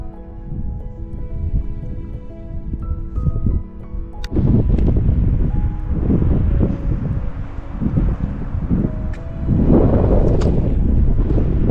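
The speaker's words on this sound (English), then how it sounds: "I don't know if you can hear me because of the wind" Strong wind buffets the microphone on a canyon rim in Zion National Park's West Rim, roaring in heavy, uneven gusts that swell louder toward the end, with no voices.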